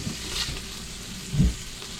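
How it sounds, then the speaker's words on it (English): Onions sizzling in a hot pan alongside ham and sausage while cooking red beans and rice, a steady low frying hiss with a brief louder crackle burst near the end, no talking. "as soon as I get it out, I'm gonna throw in the onions"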